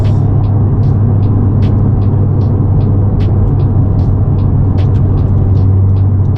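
A big-turbo Honda Civic Si engine drones loud and steady under heavy load in a third-gear pull, a deep rumble with faint ticking and whooshing on top, close up from inside the car.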